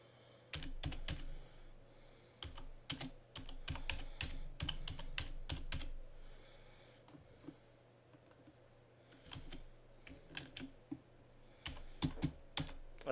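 Computer keyboard typing while code is written, steady bursts of close key clicks with short pauses, ending in sparser scattered taps.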